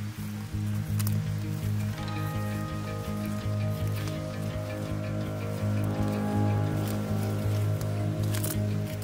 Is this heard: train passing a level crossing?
no